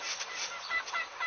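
Chickens cluck and squawk in the Angry Crocodile video game, a run of short bird calls over a continuous game soundtrack.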